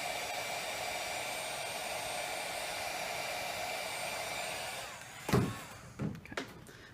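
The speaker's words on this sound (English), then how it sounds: "it's a little wet, so I'm going to dry it quickly" A hair dryer blows a steady, loud, close whir to dry wet paint on mixed media work, then cuts off near the end, followed by a few light knocks and handling sounds, with no talking.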